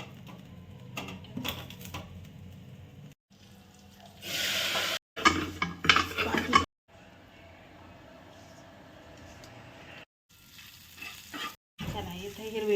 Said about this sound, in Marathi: त्यात जिऱ्याची कडक फोडणी दिली, तेल, मीठ.